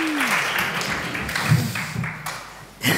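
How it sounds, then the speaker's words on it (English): Audience applause at a festival opening night in Berlin, a dense, steady wash of clapping filling the room for a few seconds, with a brief swell near the end. "Applaud yourselves."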